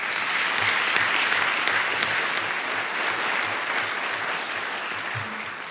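Steady audience applause at a Senate occasional lecture, a dense sustained clapping from a large crowd that fades slightly toward the end.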